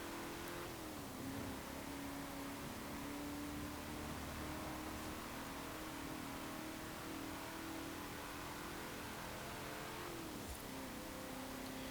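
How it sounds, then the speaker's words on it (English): A 1996 HSV GTSR engine in Forza Horizon 4 drones steadily, its pitch climbing and dipping with a couple of shifts, loud and continuous with no talking. "let's let you just hear the engine for a little bit"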